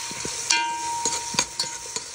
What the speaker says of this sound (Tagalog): I put my oil, ginger, onion, and garlic. Mix all together.